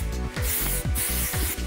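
Firm-hold hairspray is sprayed onto styled hair in a few close, forceful bursts of airy hiss, heard near and alone.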